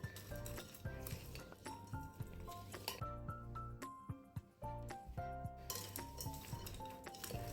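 Kabuli chickpeas being tossed with spices in a bowl, with a busy run of metal spoon clinks, scrapes and wet squishy patter, brief pauses between strokes and no talking.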